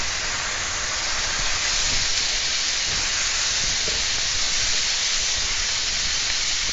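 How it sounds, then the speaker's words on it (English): Meat sizzles in a hot pan already holding onions and garlic, a loud, steady hiss that runs unbroken from start to finish with no talking. "Now we're going to go ahead and add our meat."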